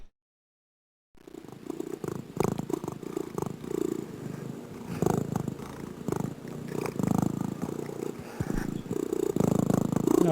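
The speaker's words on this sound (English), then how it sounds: "Cats purring." A cat purrs steadily from a Compton's Interactive Encyclopedia recording on Sega CD, with a close, rumbling, continuous purr and a slightly rough pulsing texture, starting after a second of silence.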